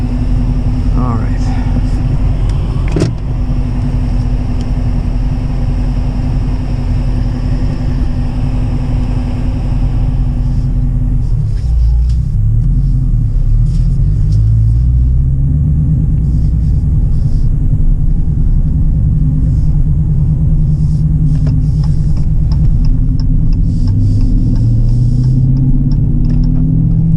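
A 2018 Dodge Challenger R/T 392 Scat Pack with a 6.4L Hemi and muffler-delete exhaust cruises on the road, a deep, steady engine rumble from inside the cabin under intermittent talk, shifting in pitch around mid-clip.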